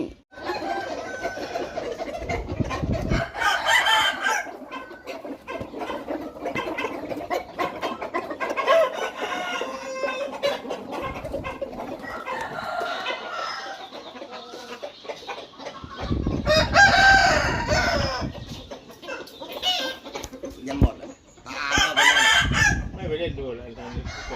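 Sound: chickens clucking and rooster crowing

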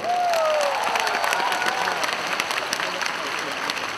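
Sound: audience applause after a song

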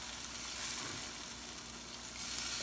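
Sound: pork igado simmering in pan

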